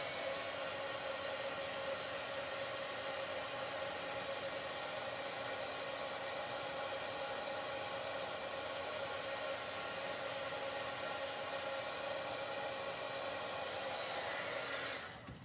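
A hair dryer runs continuously at close range while drying hair, a steady loud whooshing hum that holds unchanged for the whole stretch before cutting off at the very end.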